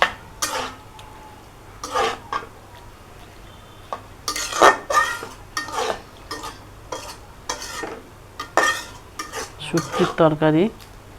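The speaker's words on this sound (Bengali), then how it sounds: "এখন কিছুক্ষণ একটু নাড়তে হবে।" Dried fish and leafy greens curry stirred in a pan, a utensil scraping and clinking against the metal in repeated strokes at close range, with a soft sizzle beneath and no talking.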